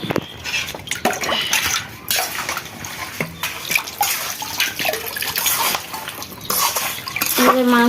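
Water splashes and spills as a child tips it out in a village kitchen where local chicken curry is being prepared, with clattering dishes and a voice talking over the wet, uneven splashing.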